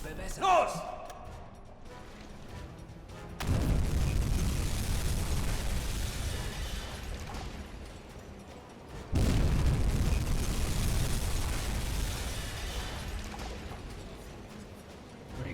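Two torpedo hits explode against the stern of a ship in the submarine game UBOAT, each a sudden loud boom at about 3.5 and 9 seconds that rolls into a long, heavy rumble, with no talk over them.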